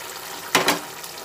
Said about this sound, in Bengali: মাছগুলো দিয়ে দিলাম। মাছগুলোকে একটু ঝোলের মধ্যে সুন্দরভাবে দিয়ে দিলাম।